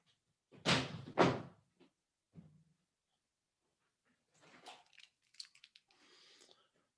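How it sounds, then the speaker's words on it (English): A door swings shut in a room with two firm thuds close by, followed by quieter clicks and rustling as someone settles in, with no talking. "Let me shut down the door behind me"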